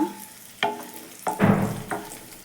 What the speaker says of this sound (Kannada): ನೋಡಿ ಈಗ ದ್ರಾಕ್ಷಿ ಸೇರಿಸ್ಕೊಂಡಿದ್ದೀನಿ ಸ್ವಲ್ಪ ಇದು ಫ್ರೈ ಮಾಡ್ಕೊಳ್ಳೋಣ